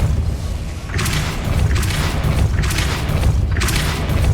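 A Depulso spell cast in the Hogwarts Legacy video game lands as three booming blasts spaced about a second apart, each a loud broadband burst over a steady low rumble.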